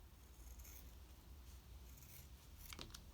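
Scissors cut a thin strip of faux leather, a quiet, soft snipping and scraping close by in a hushed room, with a couple of brighter crisp cuts near the end.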